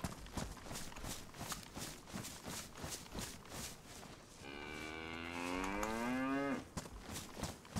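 A cow lows in the DayZ video game, a long, rising, nasal moo lasting about two seconds, heard over rhythmic footsteps that fall quiet as it sounds.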